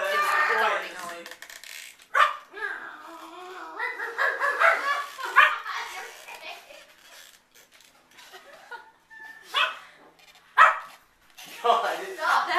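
A man imitates a barking dog with his voice, giving a string of short yips and barks that come in uneven bursts, amid laughter and people talking close by.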